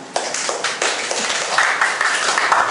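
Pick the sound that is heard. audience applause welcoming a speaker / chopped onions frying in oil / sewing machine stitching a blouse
audience applause welcoming a speaker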